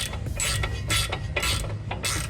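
Rapid ratcheting clicks of a 17mm wrench on a sway bar end link nut of a 2013-2017 Subaru Crosstrek, several close loud bursts of back-and-forth cranking in quick succession.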